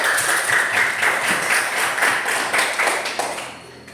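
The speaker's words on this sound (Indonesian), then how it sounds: "Berikan tepuk tangan." A classroom of students claps together after a group presentation, a steady run of close, fairly loud hand claps lasting the whole stretch and fading slightly at the end.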